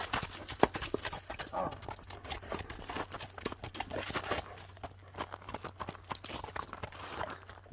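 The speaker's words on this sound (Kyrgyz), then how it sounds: "Мына жылоолорун дагы көрүңүздөр аттын." A horse at a kok-boru (ulak) game moves with a rapid, uneven clip-clop of hooves, faint and at some distance, over low background rumble. Nobody speaks.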